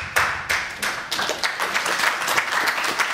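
Audience applause fills a lecture hall at a public talk on chemtrails in Palmanova, a dense steady wash of many clapping hands, loud and close, with no voices over it.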